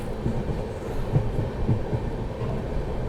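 The Jaipur Delhi Double Decker Express runs with a steady low rumble and faint rhythmic wheel clicks on the rails, heard throughout without speech.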